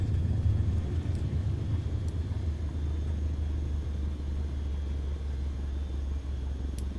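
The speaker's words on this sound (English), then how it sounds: "Now apply the brakes to slow us down and bring the plane to a stop." An airliner in Microsoft Flight Simulator 2020 rolls down the runway after landing and brakes to a stop, giving a steady, loud low rumble with engine drone that stays constant and fills the scene throughout, with no voices.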